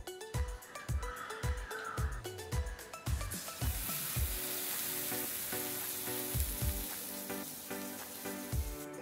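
A veg cheese sandwich grills over a low gas flame, giving a close, steady sizzle and crackle punctuated by repeated soft knocks and taps, no voices.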